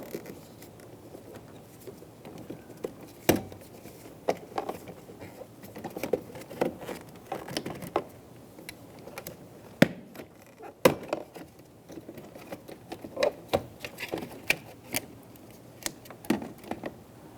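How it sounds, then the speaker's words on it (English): Plastic trim tool prying a door trim piece off a 2000-2007 Ford Focus interior door, producing scattered close clicks, snaps and scraping pops spread irregularly throughout, fairly quiet with no speech. "Using a plastic trim tool, we're going to remove the trim piece."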